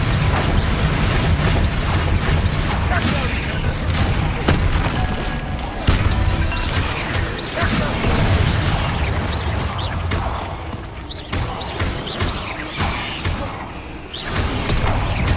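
Explosive Bombarda and Confringo spells blast in Hogwarts Legacy, with repeated booms, crashes and creaking mechanisms in a dense, loud, nearly continuous barrage of game combat noise.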